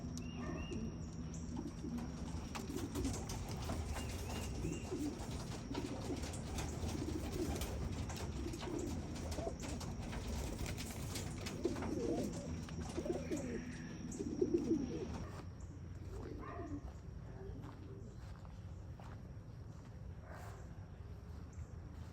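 Breeding pigeons coo in a loft, soft repeated throaty calls from several birds close by over steady outdoor background hum, with a slight flutter partway through.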